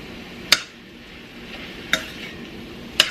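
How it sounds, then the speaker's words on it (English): Sriracha shrimp and broccoli get stirred in a sizzling pan, with three sharp utensil scrapes spaced about a second apart over a soft, steady frying hiss. "And we're going to go ahead and give that a stir."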